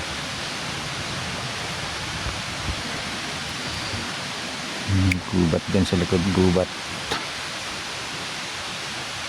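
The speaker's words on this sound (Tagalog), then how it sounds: "dumadaloy na tubig galing sa mga mini falls tsaka sa mga sapa" Water pours steadily from small waterfalls and streams in a forest, a broad continuous rush that runs throughout, briefly overlaid by a voice speaking near the middle.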